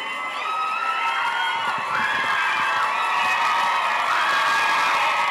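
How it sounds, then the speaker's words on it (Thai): A dense crowd screams and cheers at a Thai political rally, a steady roar of shrieks and whoops that holds loud and close throughout without a break. "อย่ากรี๊ดมาก"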